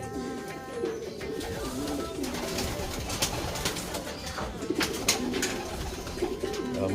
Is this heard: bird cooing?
yes